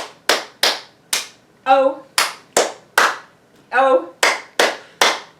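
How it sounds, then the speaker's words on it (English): Sharp hand claps ring out in steady groups during a library storytime sing-along of the Bingo song, with short sung vocal phrases falling between the clap groups. "4 claps, 1 letter"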